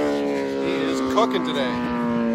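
A V4 four-cylinder superbike engine howls at a motorcycle race, a sustained high whine that shifts pitch slightly as it passes, heard under someone talking.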